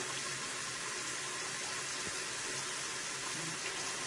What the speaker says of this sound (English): We've got more warm water now.